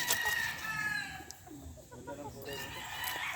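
A Sweater gamefowl rooster at a game farm crows and clucks faintly in the open, short throaty calls over soft background chatter of other birds.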